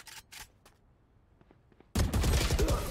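Valorant match gunfire: a couple of quick shots at first, a short lull with faint clicks, then a loud sustained burst of rapid automatic fire.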